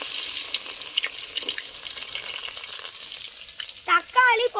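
Onions frying in a pan for village-style pasta, a loud close sizzle with scattered stirring scrapes and a brief clatter toward the end, no talk.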